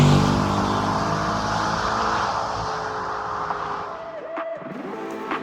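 An Audi R8 sports car engine hums loud and steady at first, easing gradually and thinning out toward the end with faint shifting tones.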